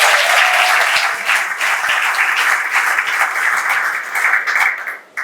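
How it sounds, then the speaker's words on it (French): Wedding guests applaud during an official royal wedding ceremony after the vows, a loud, dense wash of clapping that holds steady and then stops abruptly. "Sur vos applaudissements, s'il vous plaît."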